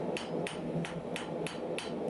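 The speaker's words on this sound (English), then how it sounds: "I keep my hammer swinging in one position so that I'm repeating the same hammer strike each time" Steady hammer blows on steel being forged into a knife, about seven evenly spaced sharp metallic strikes in a regular rhythm, close and clear over a low background hum.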